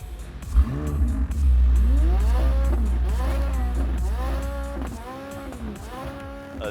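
A heavily modified McLaren track-focused street car, with a downpipe, stage 2 tune and upgraded turbos making about 800 horsepower, accelerates hard. The engine note rises loudly through several quick gear changes with repeated climbing sweeps, heard close and without speech.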